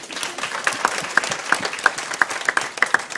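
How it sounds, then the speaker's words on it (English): Wedding guests burst into steady, dense applause indoors, a close, continuous patter of many hands clapping for a few seconds. "so round of applause for that"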